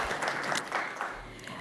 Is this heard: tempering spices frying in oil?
no